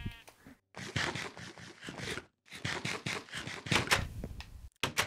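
Several bleats from sheep in the video game Minecraft follow one another in quick succession, close and fairly clear, with short gaps between calls and no talking.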